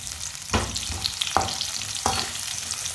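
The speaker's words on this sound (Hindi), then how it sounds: "आधा कप ऑयल डालेंगे। ऑयल की जगह आप घी भी डाल सकते हैं। एक बारीक कटा हुआ प्याज, प्याज को ना हल्का सा ब्राउन कर लेंगे।" Finely chopped onion frying in half a cup of oil in a pan, a steady close sizzle broken by three sharp stirring scrapes, with no voices.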